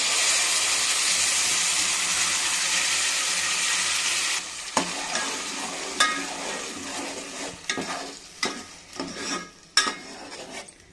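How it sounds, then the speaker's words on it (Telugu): Paneer curry gravy poured into hot oil gives a loud, steady sizzle for about four seconds, then drops to softer bubbling with scattered clinks and scrapes of stirring. "ఇప్పుడు ఈ గ్రేవీ వేసేసుకుందాము ఈ నూనెలోనే."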